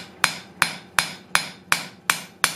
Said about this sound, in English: And back in with the ball peen in the center of the hand